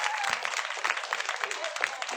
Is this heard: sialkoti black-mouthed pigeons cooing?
no